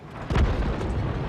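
Tank gun firing in World of Tanks from a VK 30.02 M, a single sudden deep boom with a rumbling, sustained low tail, loud and close.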